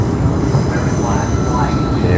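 A Mandurah Line A-series train rumbles loudly through the stadium station, steady rail noise and wheel hum close by with no clear talk.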